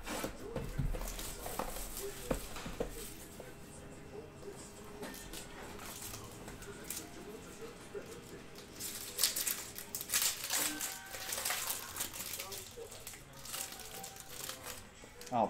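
Foil trading card packs from a box of 2016 Panini Donruss Signature Series NFL football cards are torn open and shuffled through, giving close crinkling, rustling and ripping sounds with a voice talking over them.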